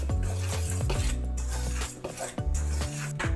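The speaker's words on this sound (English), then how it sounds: "I'm going to stir it up and mix it all together." Garlic, flour and warm milk being stirred together in a bowl, with a utensil scraping and clinking steadily against the sides in repeated close strokes.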